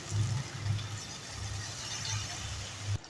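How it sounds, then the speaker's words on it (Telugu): A little water splashes into a hot curry pan of fried tomatoes, green chilies and chili powder, a broad close hiss and gurgle lasting a few seconds before it cuts off abruptly. "కొంచెం వాటర్ వేసుకుందాం"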